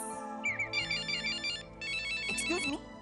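An electronic phone ringtone plays a bright, bouncing melodic tune, fairly close and steady, with no one speaking.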